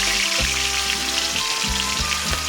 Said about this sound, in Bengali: একদম হালকা করে একটু ভেজে নেব।